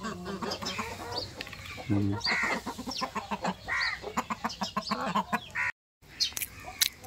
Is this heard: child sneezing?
no